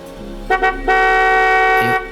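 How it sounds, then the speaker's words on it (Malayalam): A car horn blares in two short toots, then one long sustained honk lasting over a second, loud and close, followed by a brief final blast. "ഈ സമയത്ത് ഇവിടെ ഹോൺ അടിക്കുന്നത് ആ അസോസിയേഷൻ റൂൾസിന് അഗൈൻസ്റ്റ് ആണ്"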